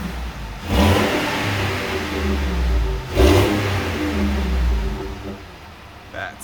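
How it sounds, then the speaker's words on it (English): A Ford F-150 pickup, a broken, rust-spotted auction truck with a V8, revs hard twice close by, each throaty surge rising and falling back to a rumbling idle between bursts. "That is V8."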